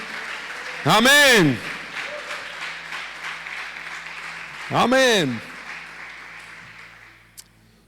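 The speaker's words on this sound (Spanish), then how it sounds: "Dale un aplauso al Señor, aleluya." A congregation at an evangelical church service in Córdoba breaks into loud, sustained applause while a preacher's voice shouts over it twice.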